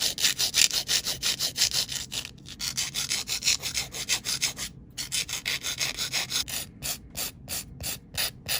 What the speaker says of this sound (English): I'm just going to file the sides of the nails and the tip of the nail